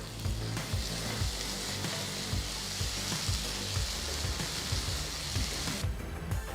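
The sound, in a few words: tomato and spices sautéing in a pan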